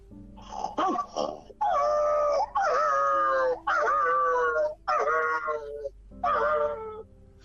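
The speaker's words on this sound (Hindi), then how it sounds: "तो जैसे ही वो कुत्ते के लगा तो कुत्ता किस तरह से चिल्लाया देखो" A dog struck by a thrown stone yelps and wails in pain, a series of loud, drawn-out cries in quick succession within a children's radio story.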